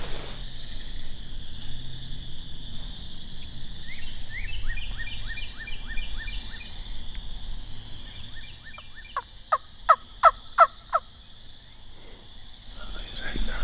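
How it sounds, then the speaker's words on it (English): Distant wild turkeys gobble from across a river in a few rapid rattling bursts over a steady high insect drone, growing louder and sharper near the end; no one speaks. "There's a bird gobbling straight over there."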